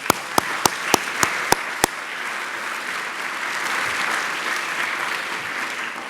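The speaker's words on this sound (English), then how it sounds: "Let's give them a round of applause." An audience applauds at the Earth Charter+25 event at the Peace Palace in The Netherlands, opening with a few sharp near claps and then swelling into a sustained, dense round of clapping.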